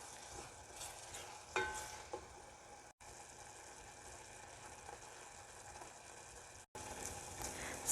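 Butter with garlic and onions cooks in a pan for a seafood boil, giving a soft, steady sizzle with a few faint clinks, quiet and continuous with brief dropouts, no voices.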